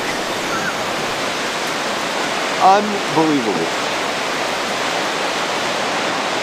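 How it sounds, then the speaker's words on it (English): The Sandy River rushes through a washed-out dam site in a constant, loud, broadband roar of flowing water, with a brief spoken remark partway through. "The river took it all."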